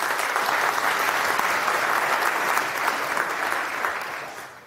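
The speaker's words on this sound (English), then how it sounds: "So round of applause for him" Conference audience applauding a speaker before a talk on building toys and gaming hardware with TinyGo; steady, dense clapping from a large crowd that holds for several seconds, then gradually tapers off toward the end.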